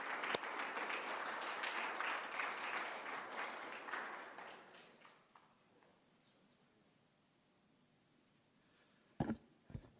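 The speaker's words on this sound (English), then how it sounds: "Give Freya a big hand of applause." An audience applauds an award winner at a sportspersons' mental health symposium: a dense, steady wash of clapping from a crowd that fades out after about five seconds, then a near-silent room with a couple of brief knocks.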